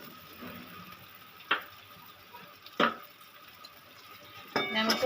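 A spoon stirs fried potol (pointed gourd) and potatoes in a pan, with three distinct scraping clinks against the metal over a faint background sizzle.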